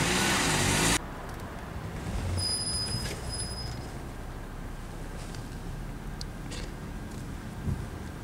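A car drives along Jackson Street in Glendale, its muted road rumble and tire noise a low, steady wash after a brief louder burst at the start, with faint passing traffic.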